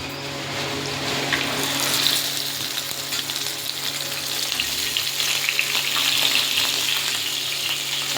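Two pieces of rohu fish fry in a pan with a dense, continuous sizzle and crackle of hot oil, close and steady throughout, with no voices.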